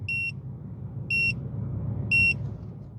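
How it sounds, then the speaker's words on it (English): An MX30 car head-up display sounds its speed alarm: three loud, evenly spaced electronic beeps over a low, steady cabin rumble from the moving car. "the speed alarm feature of this head-up display is loud"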